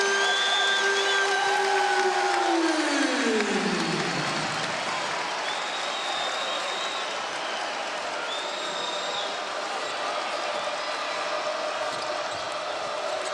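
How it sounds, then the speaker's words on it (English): Arena crowd noise at a Penn State vs Michigan college basketball game, a steady broad roar filling the whole stretch, with a whistle-like tone sliding down early and faint tonal squeaks later. "Now, look, listen to the crowd now."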